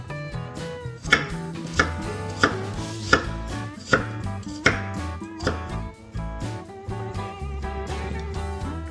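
A knife chops onion on a cutting board in a steady run of sharp, close knocks, some louder than others, with brief pauses between bursts and no talking.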